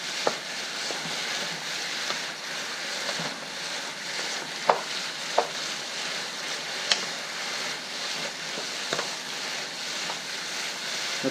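Beef and chayote stir-frying in a pan, with a continuous close sizzle and intermittent clicks and scrapes of stirring throughout.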